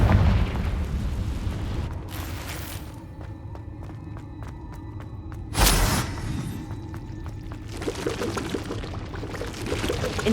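A Confringo fire-blast spell in the Hogwarts Legacy video game, a sudden whooshing burst with a boom around the middle, set among other magical bursts and rumbling game effects; no talking.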